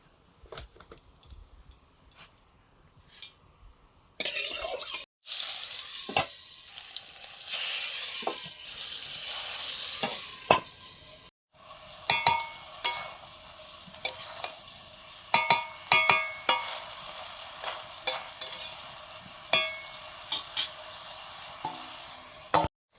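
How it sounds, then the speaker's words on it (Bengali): Fish fries in oil with a bright, continuous hiss that starts suddenly after a quiet opening, briefly cuts out midway, then resumes with scattered pops and clatters of utensils. "তেল দিলাম এবারে মাছগুলো ভেজে নেব"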